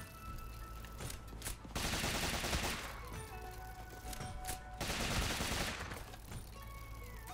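Video game gunfire from a gun in Rogue Legacy 2, heard as two dense bursts of rapid shots, each around a second long, separated by quieter game sounds.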